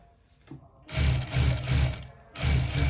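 A sewing machine runs in bursts while stitching the hem of a kameez, with a steady mechanical whir in three runs of roughly a second each, separated by short quiet pauses.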